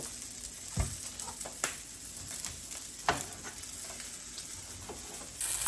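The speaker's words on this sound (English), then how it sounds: "Now you can see that this edge is cooking very rapidly and we sort of have the salmon centered on our cooktop." Sockeye salmon frying on a cooktop, a quiet, steady sizzle with occasional sharp pops and spatters, heard close and alone without talk.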